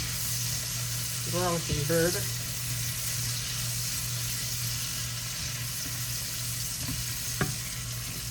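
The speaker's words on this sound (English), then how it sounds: "Tossing in that garlic and butter." Portobello mushrooms with garlic and butter fry in a pan, giving a steady, even sizzle with a faint hum underneath and a few brief clinks. A voice speaks briefly near the start.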